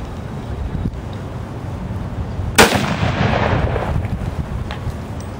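At an outdoor shooting range, a single loud, sharp gunshot cracks out midway and is followed by a short rumbling decay, set against steady wind noise with no other shots.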